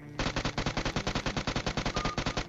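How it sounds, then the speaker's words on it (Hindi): A gun in the video game PUBG sprays a rapid burst of about 25 shots, evenly spaced, loud and close, lasting just over two seconds. "भाई तीनों विंडो पे लगातार 25 गोलियों का स्प्रे गया"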